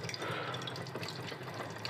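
Hot water runs steadily from the tap of a BRITC instant flow-through water heater into a sink, a close, continuous splashing rush with no speech.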